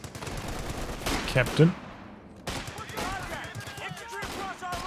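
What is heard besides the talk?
gunfire in the video game Company of Heroes 2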